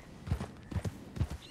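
Horse hooves clip-clop in Red Dead Redemption 2, three evenly spaced pairs of soft, close thuds at a steady walking pace with no talk over them.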